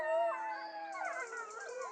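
A pack of dogs howls together, several long overlapping wavering howls rising and falling at once, fairly close and steady, with no talking over them.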